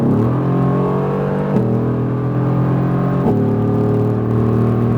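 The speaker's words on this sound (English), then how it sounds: "And then we're going to bring it off to the left side, get the wheel straight, and accelerate." A Mercedes-AMG GT R accelerates out of a track corner, its engine droning loudly and steadily with rising pitch that drops briefly at two gear shifts, heard close from inside the car.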